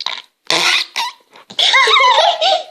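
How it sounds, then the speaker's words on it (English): Pink slime noise-maker putty squelched by hand gives out several loud, close, wet farting bursts of differing length, with brief silences between them. "I want to try and make it fart."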